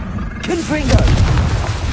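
A Confringo blasting spell bursts in a Harry Potter video game, a deep booming blast rolling in under a voice calling out, close and fairly loud.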